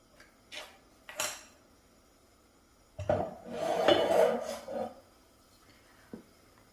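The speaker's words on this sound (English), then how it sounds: "So let's give this a stir." Rice simmering in a pot with evaporated milk is stirred, giving a few light scrapes and clinks early on, then a louder burst of spoon scraping against the pot for about two seconds before it quiets.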